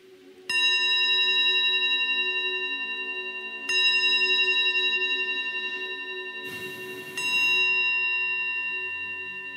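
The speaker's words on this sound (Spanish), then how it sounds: "We listen to three bell sounds." Three resonant church bell strikes ring out one after another, each sustaining and slowly fading, clear and isolated with a brief rustle between the second and third.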